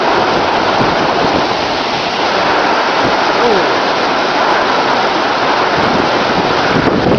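Strong storm wind sweeping in during the 2010 Shepparton storm in Australia, a loud, constant roaring rush with buffeting noise against the microphone, filling the whole scene.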